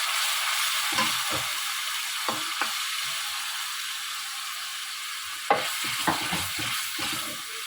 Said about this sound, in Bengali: পেঁয়াজ বাটা ফ্রাই হচ্ছে